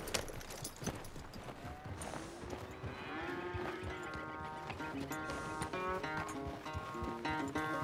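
Horse hooves clip-clopping at a steady ridden pace in Red Dead Redemption 2, set against a sustained musical score and occasional equine snorts, moderately loud and close.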